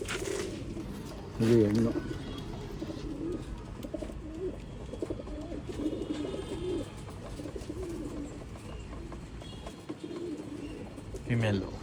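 Pigeons of an old line breed coo repeatedly at close range in a loft or shop in Bangalore, with someone speaking over the soft, rolling calls throughout.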